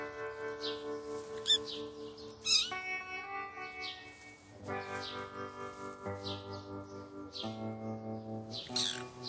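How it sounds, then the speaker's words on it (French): A 200-gram kitten gives repeated thin, high-pitched meows at a quiet level, calling for its mother, over steady sustained musical tones. "Ses miaulements sont des appels à sa mère."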